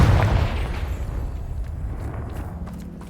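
A Confringo spell blast in Hogwarts Legacy lands as a single loud boom at the start, then rumbles and decays over a few seconds with faint debris crackles trailing off.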